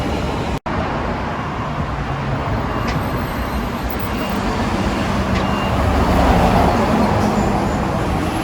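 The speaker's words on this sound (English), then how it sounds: "Western Star Boral cement truck." A Western Star Boral cement truck rolls past on a Sydney road near Parramatta and Granville, a steady broadband roar of engine and tyres that swells gradually toward the end over constant traffic noise.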